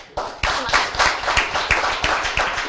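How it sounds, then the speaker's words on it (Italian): An audience at a youth cycling event presentation claps in a brisk, steady burst of individual hand slaps, close and fairly loud, with no voices over it. "Applauso."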